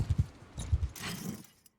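Horse hooves clip-clopping in Mount & Blade II: Bannerlord, a handful of quick, close thuds in uneven rhythm, then a brief brighter rustle before fading out.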